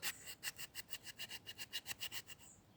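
A Kizer Momo knife scrapes tiny shavings from wood outdoors in about fifteen quick, even rasping strokes, close and fairly quiet, with no talk.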